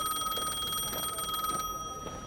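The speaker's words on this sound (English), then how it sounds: "Is that a payphone ringing?" A payphone rings on a city street a couple of blocks from a restaurant, its bright repeating electronic trill steady and fairly clear over faint background noise, with no talk.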